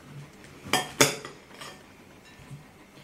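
A knife cuts a pear or apple in half on a board, with two sharp knocks close together and a fainter tap afterward against a quiet kitchen background, no voices.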